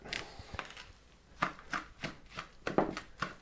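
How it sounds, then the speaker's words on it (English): A spoon cuts through and mixes potato galette ingredients in a bowl, giving a series of soft scraping, tapping strokes at an uneven pace, close and fairly quiet. "using kind of a cutting through action with my spoon here, so just to get everything combined a bit"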